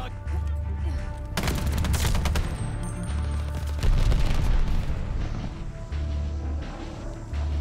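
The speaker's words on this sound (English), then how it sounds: "This gun is pretty loud for a weapon that's supposed to have suppressor on" A suppressed KG M40 rifle fires in a Call of Duty Vanguard 6v6 multiplayer match. The shots come as loud, sharp cracks in quick bursts, with rumbling echoes and battle noise filling the gaps between them.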